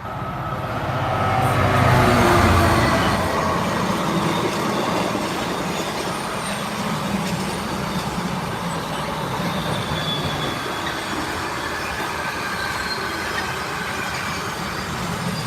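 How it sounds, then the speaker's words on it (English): A Class 66 diesel freight locomotive rumbles past near Enfield Lock, a loud, steady roar of engine and rolling wagons with wheel noise, swelling near the start and continuing without pause, no voices. "here comes the Class 66"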